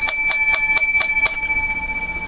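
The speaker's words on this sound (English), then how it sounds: "Seven bells to begin the second half" A bell with a bright ringing tone struck seven times in quick, even succession, close and loud, the last stroke left to ring out and fade.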